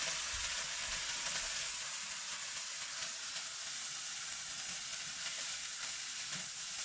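Lo mein noodles and bean sprouts sizzle steadily in hot oil in a pan, a continuous even frying hiss with faint scrapes of stirring running throughout, no voices.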